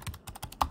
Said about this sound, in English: And to do that, I would type sudo apt